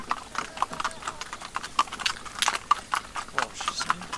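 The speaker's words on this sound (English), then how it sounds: "our next challenge is to go past these two excited horses which are prancing about in the field" A pair of horses, muddy Welsh ponies, driven in harness through a field, hooves clip-clopping in a steady, fairly close rhythm with a few brighter hoof strikes and faint background noise.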